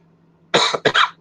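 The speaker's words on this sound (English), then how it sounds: "uh-oh, I coughed. It was a wet cough." Two quick, harsh coughs close by, the second following right after the first, with a wet, phlegmy rasp.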